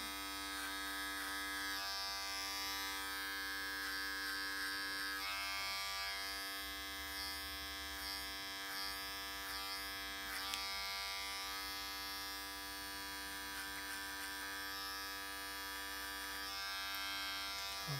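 Electric hair clippers fade out a sideburn in a barbershop clipper-over-comb haircut, giving a steady, close, continuous buzz that holds level throughout with no talking.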